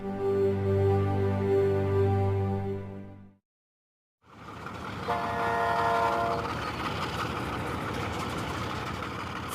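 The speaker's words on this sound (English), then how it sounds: "the journey continues on the oldest railway line in the country, towards the east, back into the interior to Damaraland." A train on Namibia's oldest railway line heading inland from the Atlantic coast: a sustained horn blast, a short silence, then the rumble of rolling wagons with a fainter horn tone, heard from a moderate distance.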